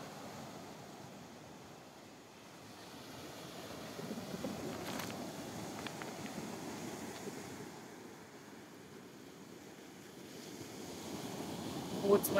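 Gentle Mediterranean Sea waves wash onto a calm beach in Turkey near a small fishing pier. The surf is soft and distant, rising and falling in slow swells.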